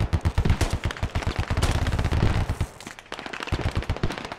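Machine gun fire in the military shooter game Squad rattles out in rapid, loud bursts of sharp reports, with a brief pause before the shooting resumes.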